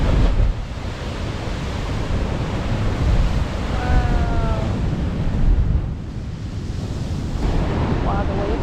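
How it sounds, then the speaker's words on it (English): Ocean waves roll onto a rocky Oregon-style coast near Thor's Well and Spouting Horn, a loud broad surging wash with wind buffeting the microphone and a faint bird call. "Wow, the waves are so beautiful."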